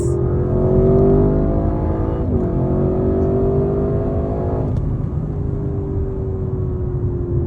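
An Audi RS6 drives past close and loud, its engine a deep steady rumble with audible gear-shift changes in pitch, ending in a smoother cruising drone.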